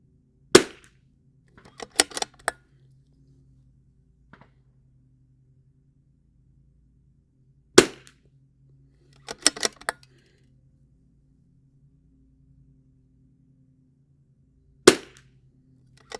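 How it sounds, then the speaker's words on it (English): Pistol shots fired at a target from a Ransom rest on a range with a magazine extension fitted, loud sharp close reports in sparse groups of one to three, separated by near silence and faint clinks. "Starting to shoot all over the place now."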